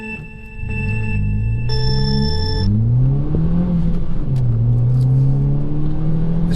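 A Nissan Juke Nismo RS pulls away from traffic lights, its engine note climbing steadily through the revs in a close, loud drone as it accelerates hard, with a chime sounding briefly at the start.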